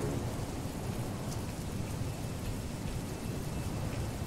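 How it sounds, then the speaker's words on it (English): Steady rain falls in the Roblox Jailbreak video game, a dense continuous patter with low rumbling underneath, evenly loud throughout with no voices. "It's raining."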